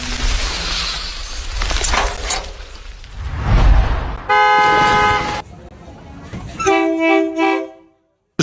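A train horn blasts loudly over a busy outdoor market din of engines and voices at Thailand's Maeklong railway, then sounds again in shorter toots as the train rumbles close by.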